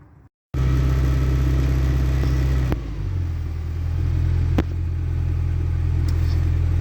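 A car is driven to bed in freshly fitted brakes and a new front caliper, with a loud, steady engine drone close by, a couple of sharp knocks, and a slight dip and shift in pitch partway through.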